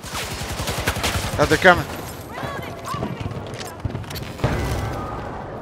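Rapid, close bursts of automatic gunfire in the video game Battlefield, followed by scattered shots and impacts while players talk over the action.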